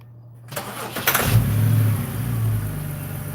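A car engine cranks and catches after a quiet start, then settles into a loud, steady rumble with a brief rev; the car had been smoking on one side.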